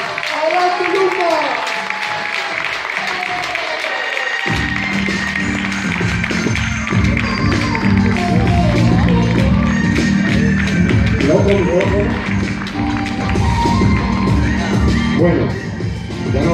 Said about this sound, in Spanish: Recibamos con un fuerte aplauso a nuestro top diamante millonario, Luca Megori.